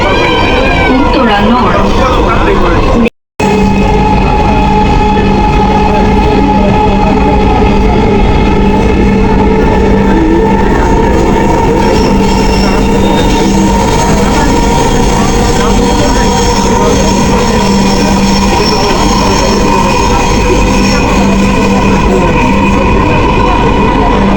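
Steady interior rumble of a metro train running between stations toward Uttara Center, a continuous low drone with whining tonal hum lasting about 24 seconds. Voices are present beneath it, and there is a brief dropout near the start.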